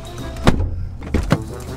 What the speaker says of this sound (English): the side steps fold down.